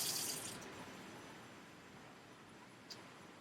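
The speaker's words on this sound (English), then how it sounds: "Let's turn the water on." Water runs from a tap into a sink in an elementary school classroom, starting with a brief hiss and settling into a faint, steady trickle with one small splash near the end.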